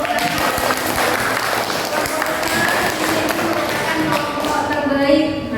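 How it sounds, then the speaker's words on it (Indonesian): A classroom of students breaks into sustained, dense applause for the top group during a teaching practice session, steady and loud throughout with voices mixed in beneath the clapping. "Silakan beri tepuk tangan."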